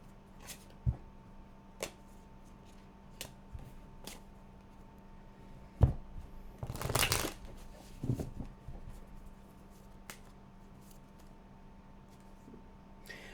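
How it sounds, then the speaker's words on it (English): Tarot cards being handled and shuffled at a table, scattered soft taps and flicks with one denser riffling burst in the middle, quiet and close with a faint steady hum underneath. "I pulled quite a few cards. A lot of shuffling"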